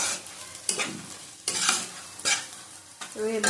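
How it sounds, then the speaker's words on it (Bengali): Onions fried in oil in a pan and stirred with a spoon, giving a steady sizzle broken by several loud scraping stirs in an uneven rhythm, close up with no talk. "দেখো আমাদের পেঁয়াজ ভাজাটা হয়ে গেছে"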